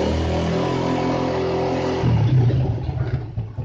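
A Yamaha Vega ZR motorcycle engine idles steadily, then gets a sharp throttle blip that rises and rattles before fading and sputtering toward stalling, close and fairly loud, with no voices.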